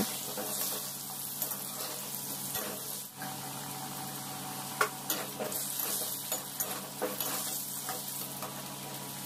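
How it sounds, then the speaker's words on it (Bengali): Potatoes dusted with salt and turmeric powder fry steadily in a pan, giving a dense continuous sizzle with scattered stirring clicks and scrapes throughout. "দিয়ে আমি এগুলোকে ভালো করে একটু ফ্রাই করে নেব"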